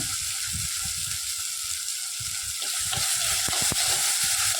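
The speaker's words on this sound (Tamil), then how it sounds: "கட் பண்ண ஒரு தக்காளி போடுங்க தக்காளியும் நல்லா வதங்கணும்" Chopped onion and tomato sizzle and fry in a pan for a vegetable poriyal with broad beans and jackfruit seeds, a steady bright hiss with several clicks of stirring near the end, no talking.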